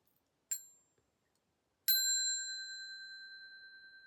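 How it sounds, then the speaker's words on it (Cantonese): A meditation bell is struck twice in quiet surroundings. The first is a short tap, and the second is a clear, bright ring that sustains and slowly fades. "我哋透過1下鐘聲呢，去完結呢一個練習"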